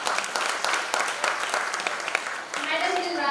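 A crowd at the Udaan Idol Little Champs grand finale in Mumbai claps to welcome the judges, with dense, steady applause throughout and a voice rising over it near the end.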